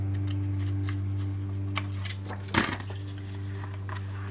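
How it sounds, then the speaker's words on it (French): Scissors trim excess scrapbooking paper in a series of crisp close snips, ending in one louder cut and a papery rustle, all over a steady low background hum. "Je vais couper l'excédent."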